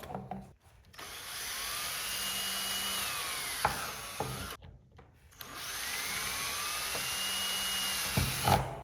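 A power drill whines through two sustained bursts, each ending in a sharp clack, while a hole shot device is fitted to a dirt bike in a home garage, close by and with no talking.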